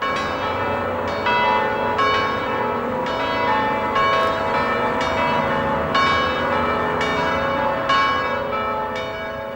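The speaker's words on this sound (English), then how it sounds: "The bells of the Sacré-Cœur in Paris, solemnly pealing." Church bells of the Sacré-Cœur in Paris peal solemnly, strokes ringing out roughly once a second with long overlapping resonance, loud and unaccompanied.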